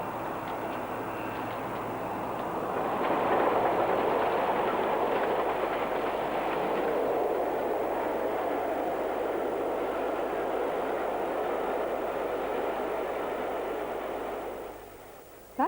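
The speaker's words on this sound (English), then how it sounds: "Bahamas is a popular and well-used loco on mainline excursions" Steam locomotive Bahamas hauls a mainline excursion train past, a broad continuous rumble and rush of wheels on rails that swells, holds steady for several seconds, then fades quickly as the train moves away.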